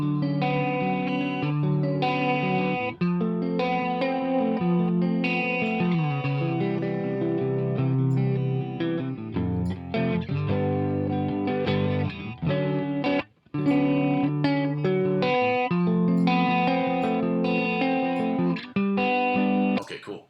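Music mixed with a delay effect, echoing repeats of the sustained tones carried steadily across the passage with brief dropouts, no talking.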